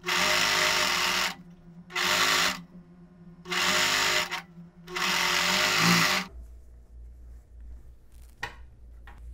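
A sewing machine stitches sports knit fabric in four loud, close bursts of rapid mechanical whirring separated by short pauses, then falls quiet with faint handling noises.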